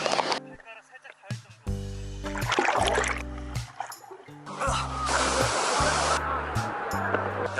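Rough ocean surf surges steadily onto a beach in Sydney, a loud, continuous wash of breaking waves heard close by, with people talking over it throughout.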